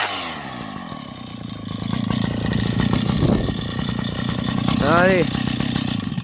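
A STIHL 045AV chainsaw, revived after twenty years unused, idles steadily with a throaty two-stroke drone and swells briefly around the middle and again near the end, with a person speaking over it.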